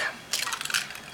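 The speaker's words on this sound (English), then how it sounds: "Egg number 2. Just give her a little whack," A single egg cracked against a hard edge for fish fry batter, a brief sharp crunchy crack heard close up with no talking.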